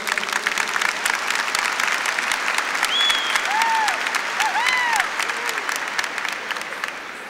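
A lecture audience claps in dense, sustained applause that fills the whole stretch and eases slightly toward the end, with faint vocal sounds rising above the clapping.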